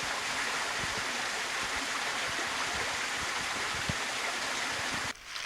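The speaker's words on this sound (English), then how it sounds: "We are now standing at the main source of the stream" A hillside stream rushes steadily at its source in the hills near Kagoro, a continuous close wash of flowing water with small gurgles, cut off abruptly near the end.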